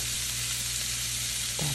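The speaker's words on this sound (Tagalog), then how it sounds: "Tapos sibuyas naman ang isusunod ko. Stir-fry lang natin. Gisa-gisa lang." Onion stir-frying in a hot pan for pancit bihon gives a steady, close sizzle with a faint low hum beneath and no voices.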